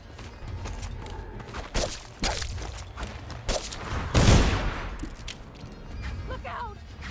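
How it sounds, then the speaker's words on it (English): Gunfire and a heavy impact burst out during a close-quarters fight in the stealth action game Dishonored, with scattered thuds and clatter around one loud crash. "I shot some people and I stabbed some people"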